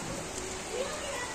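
Steady rain falling outdoors on a cloudy day, a continuous broadband hiss that stays fairly even throughout the short stretch, with no voices.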